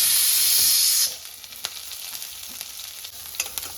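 Shallots and curry leaves dropped into hot oil with mustard seeds and chana dal: a loud burst of spitting sizzle for the first second, then a quieter steady frying hiss with scattered crackles and pops.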